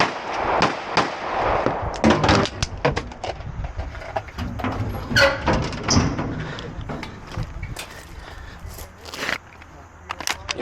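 Rifle and pistol gunfire at a shooting match, a rapid series of sharp, loud shots in quick bursts with brief pauses between, heard close with some background voices.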